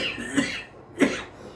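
A voice imitates a smoker's cough, giving two short, rough coughs about half a second apart, close and fairly quiet, with no other talk.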